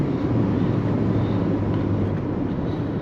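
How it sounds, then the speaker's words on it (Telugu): Steady low engine hum and road rumble, constant and fairly loud, heard from inside a moving 2022 Maruti Baleno with automated manual (AGS) transmission. "ఒక sports car sound feel offer చేస్తుంది ఇది."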